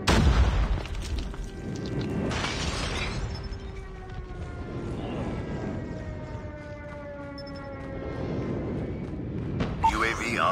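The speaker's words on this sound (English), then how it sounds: "Enemy airstrike incoming." Enemy airstrike explosions in Call of Duty Mobile, with heavy booms near the start and again around the middle and end, ringing over a steady game soundscape with alarm-like tones and spoken announcer lines.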